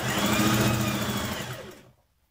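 A sewing machine runs a side seam down the leg of a jumpsuit in one continuous close whir lasting about two seconds before winding down and stopping.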